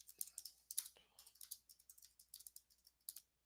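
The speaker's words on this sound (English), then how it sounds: "I'm just typing this into a chat." Rapid, irregular clicking of keys on a computer keyboard as someone types a chat message, close and crisp with brief pauses between bursts.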